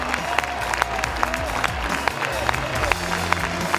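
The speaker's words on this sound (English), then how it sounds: "Round of applause for starter Jake Hunter," Baseball crowd at an NCAA game between North Carolina and East Carolina applauds the starting pitcher as he leaves in the sixth inning, a steady wash of clapping and crowd murmur with scattered cheers throughout.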